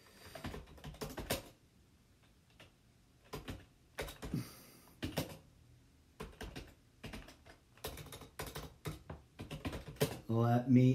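Computer keyboard typing in bursts of rapid key clicks with pauses, close and fairly quiet, ending under a short snatch of music.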